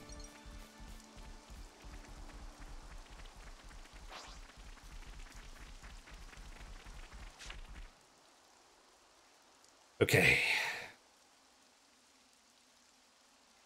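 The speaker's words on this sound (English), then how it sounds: "He can summon the rain." A rain skill in the video game Xenoblade Chronicles 3, heard as a soft patter of rainfall under a rhythmic backing for about eight seconds. Near-silence follows, then a brief loud splashing burst.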